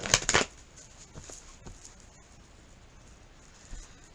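A quick riffle of tarot cards being shuffled at the start, followed by faint handling noises and soft taps, close up.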